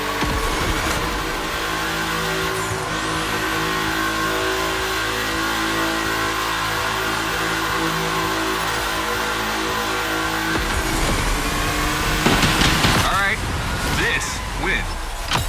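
A Porsche 911 engine in The Crew Motorfest during a gymkhana event holds a steady, loud, revving drone, surging near the end, while a voice talks over it.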